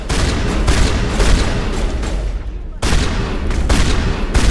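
A Mass Effect firefight with dense, loud rapid gunfire that rattles on almost without pause, one brief gap near the middle, and heavy booms underneath.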